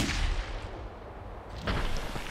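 Gunfire in the video game Clive Barker's Jericho, heavy booming shots with a rumbling low roar, one burst at the start and another about a second and a half later, loud and dense.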